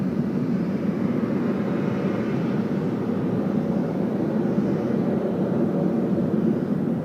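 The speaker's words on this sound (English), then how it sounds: "Is our Emirates 5 Charlie Lima, the fourth, don't get to say that very often, fourth and final A380 movement on tonight's show." An Emirates Airbus A380 at Sydney Airport on a windy night produces a steady, loud low roar of jet engines that holds without break, with no talking.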